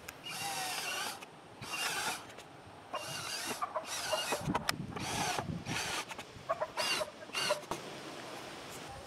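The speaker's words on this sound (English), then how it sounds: "Now we can drill out the screw holes." A power drill whirs in several short, loud bursts separated by brief pauses, boring screw holes close-up into wood for an Adirondack chair.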